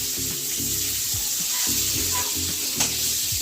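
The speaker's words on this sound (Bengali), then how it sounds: "একটু ভেজে নামিয়ে নেব, তাহলে ভালো হবে খেতে।" Brinjal (eggplant) sizzles steadily as it fries in a pan, a continuous close hiss with faint stirring clatter, and no talking over it.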